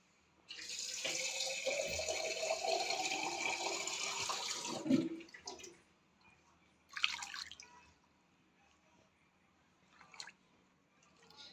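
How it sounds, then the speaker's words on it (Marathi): Running water splashes steadily for several seconds as Indian gooseberries (amla) are rinsed under a tap, then stops, followed by a few short splashing bursts. "असे तीन ते चार पाण्याने स्वच्छ धुवून घ्यायची आपल्याला आवळे"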